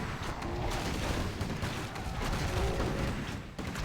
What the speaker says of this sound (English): One bear after the next getting gunned down.